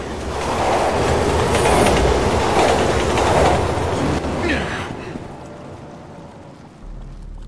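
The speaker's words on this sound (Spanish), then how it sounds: "¡Llega el tren!" A train arriving in the video game Resident Evil 6, a loud continuous rumble of wheels and rolling cars that eases off toward the end, with a brief high squeal as it slows.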